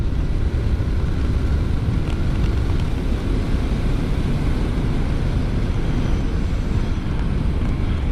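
A 2023 Triumph Scrambler 900 motorcycle pulls hard in fourth gear, its engine a steady, loud, continuous drone heavily mixed with rushing wind across the entire stretch.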